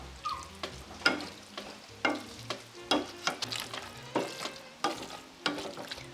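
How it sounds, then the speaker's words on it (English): A cooked mixture seasoned with cinnamon, salt and rosemary is mashed in a pan, giving repeated soft squelching thumps at an irregular rhythm, close and moderately loud. "we're just gonna mash all of this together"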